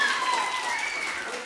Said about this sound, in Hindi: तालियां तो बजाओ यार जरा मिलके सब लोग